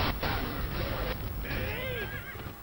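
A horse whinnies loudly with a rising and falling neigh, set against busy battle noise with hoofbeats in the video game Dynasty Warriors 3, no talking.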